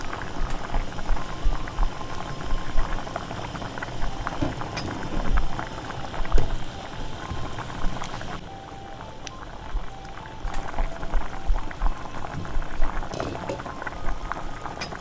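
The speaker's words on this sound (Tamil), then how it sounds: "இப்போ பாருங்கள், எலும்பு நல்லா அவிஞ்சு கொண்டிருக்கு." Chicken bones boil in a pot for chicken rasam, a continuous bubbling and popping simmer at steady moderate loudness throughout, with no talking.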